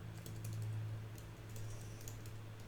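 Computer keyboard typing of gibberish text into a sample file, a quick run of soft, close key taps over a low steady hum, fairly quiet.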